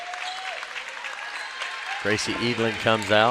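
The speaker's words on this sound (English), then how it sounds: "She gets a round of applause from the Bardstown fans" Fans at a girls' high school basketball game applaud a player leaving the court, a light even patter of clapping heard under a commentator's voice, which grows louder and more prominent toward the end.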